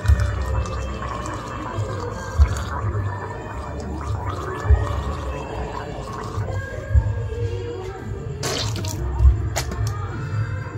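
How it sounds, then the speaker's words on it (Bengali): Gargling with warm water taken in a cup, a bubbling, watery churn that repeats in short bursts over steady low background noise, with a brief sharp sound near the end. "কাপে করে জল গরম নিয়ে গুজগুজ করছি"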